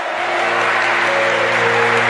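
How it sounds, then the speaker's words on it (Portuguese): Church congregation applauding, a steady dense clapping wash that holds at the same loud level from start to finish, with a faint sustained musical tone beneath. "Aplauda Ele mais forte."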